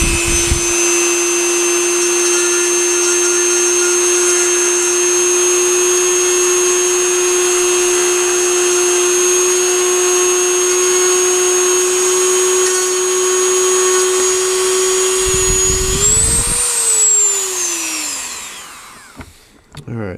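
A Dremel rotary tool enlarges a micro USB port hole in a GameBoy Pi handheld case, its steady high whine droning loud and constant before rising in pitch and spinning down near the end.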